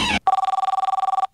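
A telephone rings with a fast, pulsing electronic trill that lasts about a second and follows a brief burst of other sound.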